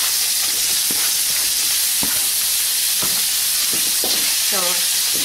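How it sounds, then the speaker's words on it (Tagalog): Softened pork sautéed with onion in a pan, a loud continuous sizzle with scattered clicks and scrapes of stirring, and a faint voice-like sound near the end. "Igisa na natin yung pinalambot nating pork"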